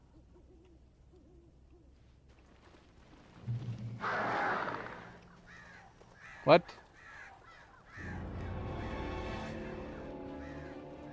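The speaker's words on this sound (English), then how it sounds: "There are a lot of birds above us." Owl hoots and crow caws sound in the Alan Wake video game, a bright sharp call standing out amid game ambience and brief bursts of noise, with a person speaking briefly.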